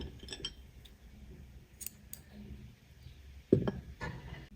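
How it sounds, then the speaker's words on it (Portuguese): Scissors snipping crochet yarn for a crocheted sunflower, a couple of quiet metallic clicks and a sharper close cut near the end, in an otherwise quiet room. "Agora eu posso cortar o meu fio."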